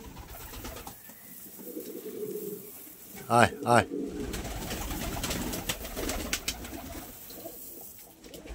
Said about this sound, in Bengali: এইভাবে পায়রাগুলোকে ডাকবো, আওয়াজে আস্তে আস্তে সব ছুটে আসবে